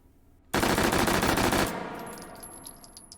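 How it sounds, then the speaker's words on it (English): A rapid full-auto burst from an H&K MP5K fitted with a stock, compensator and foregrip rips out loud and close in H3VR, about a second of continuous fire that stops sharply and leaves a decaying echo with a faint ringing tone. "Full auto MP5K stock compensator foregrip."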